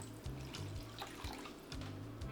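Water mixed with leftover seasoning is poured from a bowl into a cooking pot of Jamaican curry chicken, a steady, gurgling, splashy flow heard up close and fairly quiet.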